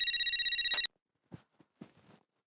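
A landline telephone bell rings in rapid repeated trills indoors for under a second before cutting off, followed by a few brief soft handling sounds in a quiet room.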